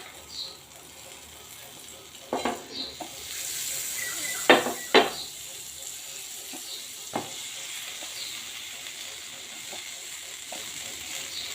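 Bread slices toasting in butter on a non-stick tawa give a steady low sizzle, with a few sharp clicks and scrapes from the pan rising above it partway through.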